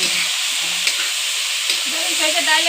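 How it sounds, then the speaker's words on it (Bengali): Fish fat frying in oil with salt and turmeric gives a loud, steady sizzling hiss close by, with a faint voice murmuring underneath near the end. "মাছের তেল এবার বেশ ভালো করে লাল লাল করে ভেজে নেবো"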